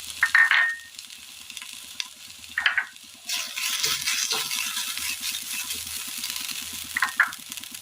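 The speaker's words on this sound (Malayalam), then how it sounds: "എണ്ണയിലേക്ക് നമുക്ക് ചതച്ചെടുത്ത തേങ്ങയുടെ കൂട്ടിട്ട് കൊടുക്കാം." A crushed coconut mixture hits hot oil in a pan for a Kerala-style meals curry. It sets off a steady, close sizzle that holds for several seconds after a few light clinks and stirring sounds.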